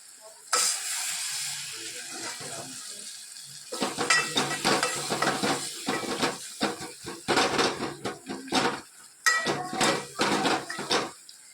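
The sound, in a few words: stirring and cooking food in a pan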